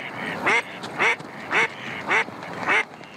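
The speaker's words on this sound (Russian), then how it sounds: "На маленьком незамерзшем кусочке пруда в Луговом ютятся и борются за хлеб окрестные утки" Ducks crowd a small unfrozen patch of a village pond in freezing winter weather, squabbling over bread. Five loud, close quacks come at an even, rapid pace, with a faint background hiss and no talk.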